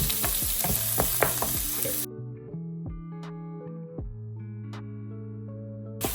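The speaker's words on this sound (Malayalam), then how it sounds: "കടുക് പൊട്ടി അതിലേക്ക് നമുക്ക് അരിഞ്ഞ് വെച്ചിരിക്കുന്ന സവോള, കൊച്ചുള്ളി, വെളുത്തുള്ളി, ഇഞ്ചി, കറിവേപ്പില ആഡ് ചെയ്യാം." Chopped onion, shallots, garlic, ginger and curry leaves added to spluttering mustard seeds for a masala prawn curry, a close crackling sizzle with stirring that drops to a quieter fry behind a soft musical tone.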